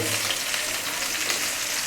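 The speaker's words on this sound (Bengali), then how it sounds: "মাছ ভাজা করতেছে" Small rohu fish frying in oil in a pan, a steady loud sizzle and crackle throughout with faint stirring and no speech.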